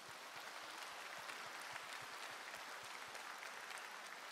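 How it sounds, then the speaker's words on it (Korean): Congregation at a church worship service applauds, a faint, distant, even patter of clapping sustained for a few seconds with no talking. "하나님께 영광의 박수 한번 올려드리겠습니다."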